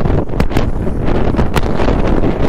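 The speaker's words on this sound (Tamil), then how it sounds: "ஆனால் எனக்கு காற்று சவுண்டு தான்" Outdoor wind blowing hard across the microphone, loud buffeting rumble with a few sharp gusty bursts over a couple of seconds.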